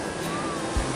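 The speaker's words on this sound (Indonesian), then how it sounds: "Tapi justru sekarang yang terlihat hanya ombak besar yang bergulung-gulung." Large ocean waves roll onto a sandy shore in a steady, broad wash of surf with a brief heavier thump near the end, close and continuous with no talk.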